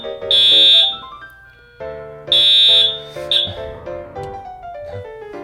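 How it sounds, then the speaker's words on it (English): A building fire alarm sounds in loud, sustained high-pitched tones that repeat in bursts with pauses between them, while a tonal melody plays alongside. "The fire alarm has been going off all day"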